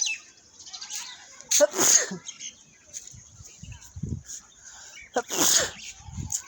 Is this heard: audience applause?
no